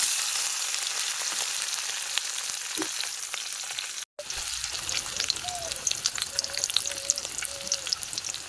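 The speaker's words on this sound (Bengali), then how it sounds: "এবার আমি হালকা তেলে এটা ভেজে নেব।" Steamed egg pieces frying in a little oil in a kadai, a continuous close sizzle with small pops, briefly cut out for a moment before resuming.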